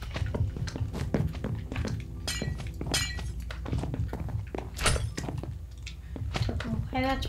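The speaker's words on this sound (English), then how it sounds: "I like the sound of breaking glass in Minecraft" Glass blocks break in Minecraft, with repeated short crunching shatters scattered among thunks and clicks, mixed under steady talking.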